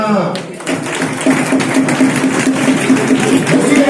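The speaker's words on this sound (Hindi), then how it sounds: "तालियां" An audience claps steadily at a school prize distribution for a legal literacy competition, a sustained patter of many hands with a faint tonal hum underneath and a voice at the start.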